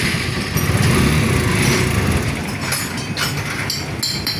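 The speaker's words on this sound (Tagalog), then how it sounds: "nabuo na nato ang motor og ato anan siyang testingan og paandar kung maandar" A rebuilt Suzuki Supremo 150 motorcycle engine, one with an overheating problem, test-running close by: a steady, loud mechanical drone with rattling, fluctuating revs and a few sharp clicks near the end.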